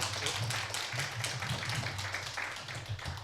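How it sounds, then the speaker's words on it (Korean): An audience at a humanities lecture forum applauds, a faint, steady patter of clapping that holds throughout without any talk. "큰 격려의 박수 부탁을 드립니다"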